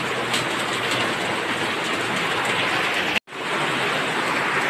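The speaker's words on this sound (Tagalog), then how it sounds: "malakas pa yung ulan natin ngayong umaga" Steady, dense hiss of heavy rain from Typhoon Goring pouring down in the Philippines, constant and close, with a brief dropout near the end before the downpour resumes.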